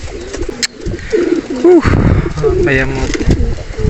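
A weak, ailing banded pigeon gives several soft, close coos, scattered between a man's speech and handling noises.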